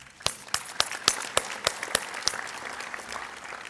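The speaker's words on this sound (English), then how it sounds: "Please give yourself a round of applause." A small faculty audience applauds at a campus meeting, with distinct individual claps standing out sharply near the start before blending into a looser, thinner patter.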